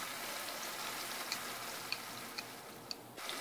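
Onions frying in ghee for chicken dum biryani give a steady close sizzling hiss, broken by a few sharp ticks from stirring toward the end.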